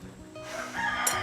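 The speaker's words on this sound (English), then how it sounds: "That's how loud my roosters are." Roosters crow loudly outside while the listener is inside the house, one drawn-out rising cock-a-doodle-doo call rising above a low indoor hum.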